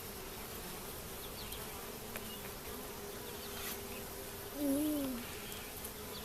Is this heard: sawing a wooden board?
no